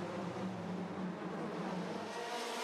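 A Formula 3 race car lapping the Macau Grand Prix street circuit, a steady, fairly faint engine drone holding for the whole stretch without a clear pass-by.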